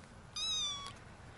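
A tiny kitten, one of five found in a garbage bin, gives a single thin, high-pitched meow, close but faint against a quiet background.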